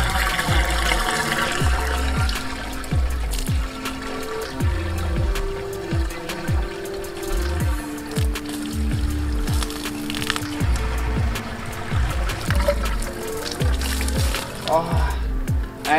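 Water pours through a pipe into a drum in a hybrid siphon and drum pump setup, a steady loud rushing and splashing that runs continuously with gurgling surges.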